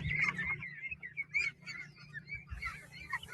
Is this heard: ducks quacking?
yes